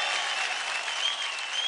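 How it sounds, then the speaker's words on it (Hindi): Steady, dense applause from a studio audience cheering a dancer on a televised dance show stage, a brief continuous wash of clapping with no pauses. "जोरदार तालियां हो जाए अमृता के लिए।"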